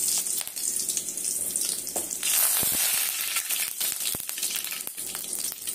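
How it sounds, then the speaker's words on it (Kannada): Dried red chillies and curry leaves sizzle and crackle steadily in hot oil for a banana fry, loud and close, with a brief stirring clatter partway through and no talking. "ಈಗ ಇಲ್ಲಿ ಒಣಮೆಣಸಿನಕಾಯಿ 1-2, ಕರ್ಬೇವಿನ ಸೊಪ್ಪು ಹಾಕ್ತಾ ಇದ್ದೀನಿ."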